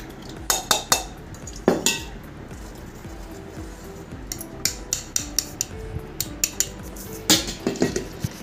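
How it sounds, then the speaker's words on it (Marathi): Cooled tamarind drink (chicheche panhe) is strained through a metal kitchen strainer, with sharp metallic clinks, taps and scraping against the vessel coming in irregular bursts, loud and close. "आपण ज्या गाळणीनं चिंच गाळली ती त्याच गाळणीनं आपण हे गाळून घेतो आहे"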